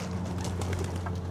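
Racing pigeons cooing at a loft, soft repeated coos and flutters over a steady low hum, close and moderately loud with no talk.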